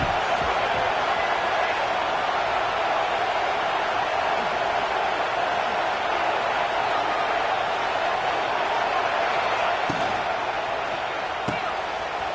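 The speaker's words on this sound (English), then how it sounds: "Man, this crowd really affecting the football game" Steady stadium crowd roar in a football video game, a loud continuous wash of many voices with occasional thuds, holding level throughout, with speech faintly mixed in.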